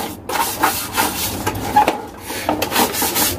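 A broom sweeps dust and dirt off a household exhaust fan, making a steady run of scratchy, rubbing strokes that repeat about every half second. The sound is close and fairly loud, with no talking.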